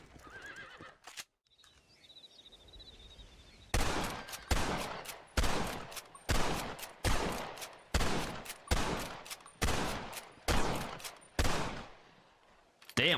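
Video game gunfire rings out in a series of loud, sharp bursts, about a dozen rapid volleys in rhythmic succession after a quieter opening, with each burst clipping off abruptly.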